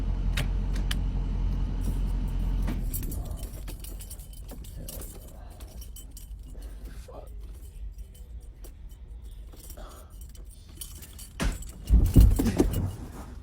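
Keys jangle and clink as they are grabbed from inside an ambulance, with a vehicle rumbling at first, scattered handling noises, and a louder burst of clattering near the end.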